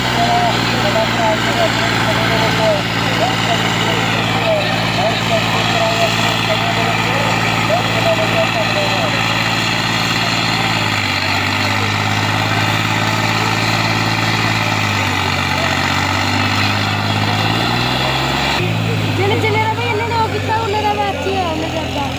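A tractor engine idles close by at a trolley-pulling contest in Mansa, its wheels sunk into soft ground, with a steady, throbbing low rumble, its pitch dipping and shifting a few times.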